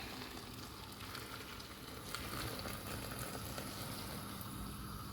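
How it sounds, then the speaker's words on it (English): Boiling water from a kettle pours over greens in a big pot, a continuous rushing, bubbling splash that stays steady and close, quiet overall with no talking. "Kettle full of boiling water going straight over the top"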